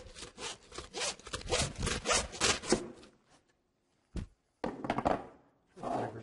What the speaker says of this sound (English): Going through the blade bone right now.